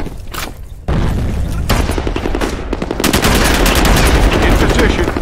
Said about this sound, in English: Grenade out! Fire in the hole!